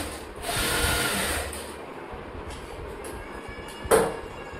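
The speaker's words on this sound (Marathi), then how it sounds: "डबल शिलाई मारून घ्यायची" A sewing machine double-stitches the seams of thin-fabric blouse cups, a steady whirring run that fades to quieter mechanical ticking, with a brief louder clack near the end.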